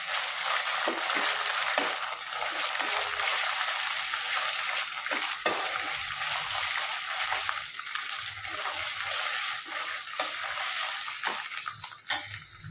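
Onions turned pink fry with ginger-garlic paste in a pan for mutton, giving a loud, continuous close sizzle with occasional stirring scrapes and clicks throughout, and no talking.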